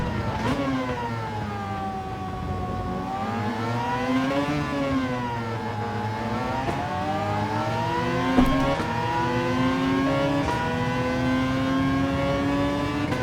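Mazda LM55 VGT race car in Gran Turismo 7 at Trial Mountain, its engine note climbing and dropping through gear changes in a continuous loud drone with rising and falling harmonics, no voices over it.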